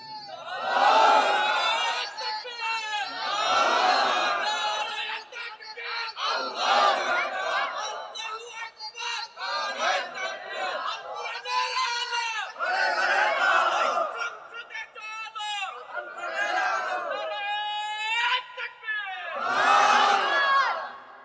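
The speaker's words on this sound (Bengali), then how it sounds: "কেউ তো স্লোগান দেন না, দেন।" A large crowd of about a thousand at a religious gathering chants slogans together, loud and close, in repeated shouted bursts with brief pauses between them.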